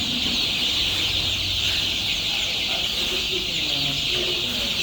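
Poultry chickens in a shed clucking continuously, many birds at once forming a dense, busy chorus close by, with a faint voice under the noise.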